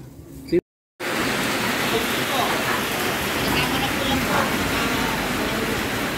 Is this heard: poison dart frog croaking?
no